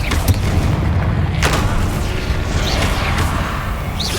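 Incendio fire spell cast in the video game Hogwarts Legacy, loud whooshing bursts and booms over dense game sound, several blasts in a few seconds.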